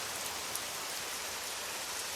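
Rain falls steadily on a forest, an even, dense hiss of drops with no gaps, fairly soft and unchanging throughout, with no voices.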